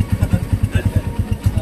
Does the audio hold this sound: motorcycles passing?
yes